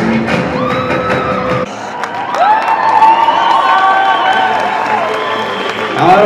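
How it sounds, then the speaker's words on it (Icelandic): An audience at an Icelandic horse show claps and cheers in a lively burst, with whoops rising over steady applause and voices mixed into the crowd noise. "Já, það erum við að klappa fyrir þessum"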